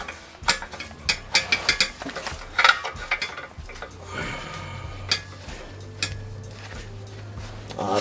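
Ratchet wrench clicking in quick bursts while undoing the last nut on a car's exhaust manifold, close up, with metallic clatter and a low mechanical hum underneath.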